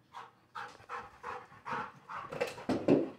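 A dog carrying two toys in its mouth pants in steady rhythmic bursts, close and fairly loud, with muffled snuffling and no talk.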